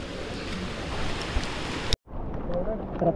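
Water running down a mountainside in small falls near a village in Mahad, Raigad, a steady rushing wash that cuts off abruptly partway and returns slightly thinner.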